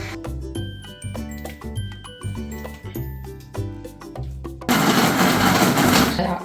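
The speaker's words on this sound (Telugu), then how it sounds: "మిక్సీలో జార్లో సన్నగా మిక్సీ చేసుకుందాం" A mixer grinder jar blends chicken momo filling, its loud broadband roar cutting in abruptly near the end after a stretch of music and rhythmic thumps, then holding steady and close.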